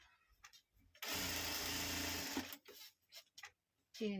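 Domestic sewing machine running a zigzag stitch, a steady whirring burst of about one and a half seconds, close and clear, with brief clicks and handling noises before and after.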